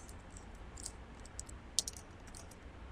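Light, quick taps on a computer keyboard while writing code for a web front-end lesson, faint scattered clicks with one sharper keystroke over a steady background hiss, no one speaking.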